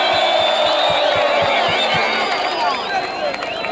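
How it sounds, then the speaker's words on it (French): A big political rally crowd in Bukavu cheers for Mukwege, with loud sustained shouting and high whoops over a steady rhythmic thump that fades out partway through, as the roar eases slightly toward the end. "Applaudissez pour Mukwege."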